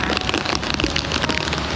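Heavy rain pours down in a steady, dense hiss on a journey between Ban Phonxai and Mahaxai in Laos, loud and continuous with no voices.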